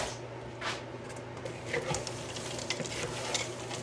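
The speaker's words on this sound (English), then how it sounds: "so I have my rice I'm going to stir in." Rice being stirred in a hot pan gives soft scraping and clinking strokes over a faint sizzle, close and fairly quiet, with irregular bursts of spoon-on-pan contact.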